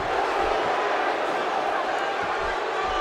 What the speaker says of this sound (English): Seth Rollins' connection to this crowd is undeniable